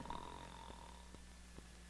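Cartoon king snoring in a children's animation, soft repeated snore breaths at a slow rhythm, quiet and close, no talking.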